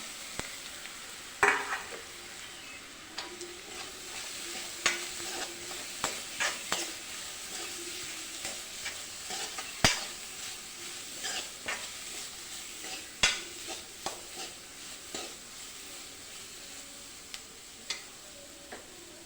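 Onion and coconut fry in a pan with a continuous sizzle, while a spoon stirs and scrapes against the pan in irregular clicks and knocks throughout, close by and with no voices.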